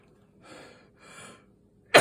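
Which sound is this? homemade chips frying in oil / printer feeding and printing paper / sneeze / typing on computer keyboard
sneeze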